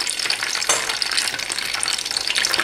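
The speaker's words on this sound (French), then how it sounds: "je préfère les faire cuire dans une poêle plutôt que dans une friteuse pour pouvoir maîtriser" Chicken spring rolls (nems) frying in a pan over medium heat, giving a loud, continuous sizzle and crackle of hot oil with no voices.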